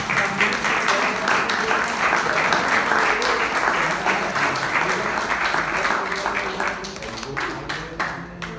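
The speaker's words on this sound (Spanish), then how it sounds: "gracias a todos ustedes, un aplauso." Audience applause at a book presentation in Teocelo: dense, sustained clapping from a room of people that holds steady and then thins out and fades toward the end.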